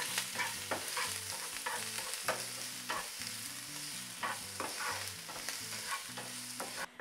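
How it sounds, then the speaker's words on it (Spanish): Onion and a garlic clove frying in a little oil in a pan, a steady close sizzle with stirring scrapes throughout and musical tones underneath, no talking. "En una sartén con un poco de aceite vamos a agregar la cebolla y el diente de ajo."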